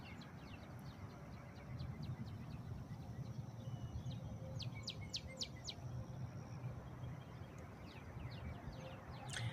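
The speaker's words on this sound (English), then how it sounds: "I don't know if you could hear the birds chirping in the background," Birds chirp in a park in the morning, scattered high calls and short trills coming and going over a steady low outdoor rumble, fairly faint and somewhat distant throughout.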